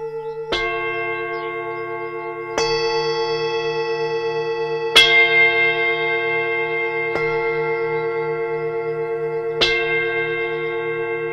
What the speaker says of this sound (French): on fait sonner les gongs